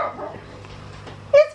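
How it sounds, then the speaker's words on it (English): A dog barks once, loud and close, at other dogs outside, after a stretch of soft background sound. "barking at the doggies outside"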